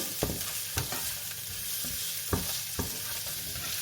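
Onion frying in a pan for fried rice, a steady soft sizzle broken by several sharp scraping stirs at an uneven pace.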